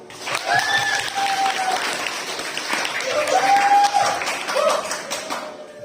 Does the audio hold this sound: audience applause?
yes